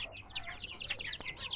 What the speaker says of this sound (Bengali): এগুলো ফাইটার মুরগির একটা বাচ্চা